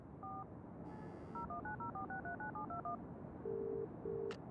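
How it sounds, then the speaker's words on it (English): A telephone number is tapped out as a quick run of touch-tone beeps, followed by two longer electronic tones, clean and close, in the video game Broken Sword 3: The Sleeping Dragon. "Perhaps I should make a call."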